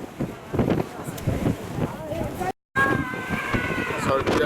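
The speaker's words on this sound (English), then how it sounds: "it is really, really windy and it's absolutely cold" Strong wind gusting across the 86th floor observation deck of the Empire State Building, buffeting the microphone in rough bursts, with a brief dropout midway and faint whistling tones after.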